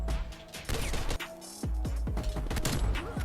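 Rapid sharp gunshots from the LW3 sniper rifle in Call of Duty: Black Ops Cold War, several loud cracks spaced unevenly over a busy game mix with mechanical clatter.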